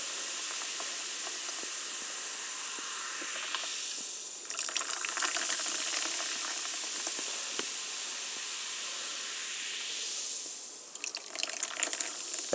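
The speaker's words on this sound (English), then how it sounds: "you open up this cherry natural flavor sparkling water and you fill it up into" Cherry-flavoured sparkling water pours into a mug with a fizzing, hissing stream, then a pause, then a second pour and crackling bubbles, all close and clear.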